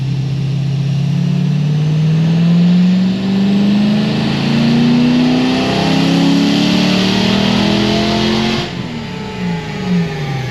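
A car engine revs hard through a short dyno pull, a loud continuous roar climbing steadily in pitch for about eight seconds before cutting off abruptly, then settling into a lower drone.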